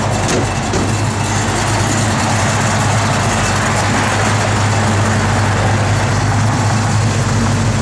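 A 1969 Ford Mustang Mach 1 engine idles with a loud, steady, low rumble, close up, continuous and without talk.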